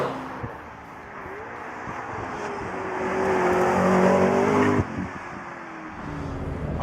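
McLaren MP4-12C sports car being driven, its engine note droning and rising through the revs from inside the cabin, with a brief dip as if shifting gear, then pulling on steadily.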